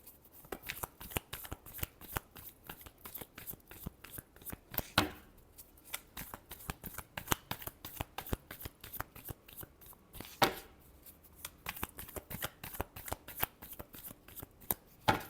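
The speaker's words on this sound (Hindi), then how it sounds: "Last shuffle." Tarot cards are shuffled by hand, a steady rapid riffle of crisp flicking card sounds, close and moderately quiet, with short pauses where the deck is squared before shuffling resumes.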